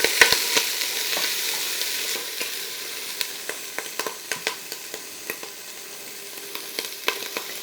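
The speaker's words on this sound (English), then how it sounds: "we're gonna put it in that celery to get that nice and softened" Celery frying in a pan with onions and garlic, a soft steady sizzle punctuated by sharp irregular crackles and pops, with no voices.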